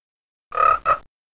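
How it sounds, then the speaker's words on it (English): A leopard frog gives a spring mating call at a pond in an early-learning science game: two close, loud croaking bursts, the first longer, with a brief gap between. "The leopard frog calls for a mate."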